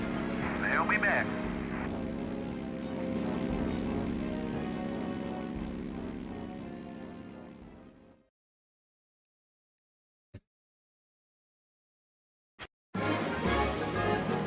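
A Wildcat fighter plane's propeller engine in the World War II combat game Heroes of the Pacific drones loud and steady for about eight seconds, then cuts to near silence broken by two sharp clicks before the roar returns abruptly.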